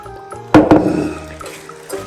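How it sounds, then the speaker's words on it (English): Water poured into a pot holding crab meat and a pinch of salt for pumpkin seafood soup, two quick splashy gushes followed by a softer, settling trickle, close and alone. "fill it out with the water"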